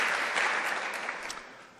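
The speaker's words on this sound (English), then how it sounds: "let's have a big round of applause for Alex" Audience applause welcoming a speaker to a talk on creating natural 3D environments, a brief burst of dense clapping that starts full and fades over about two seconds, with no talking.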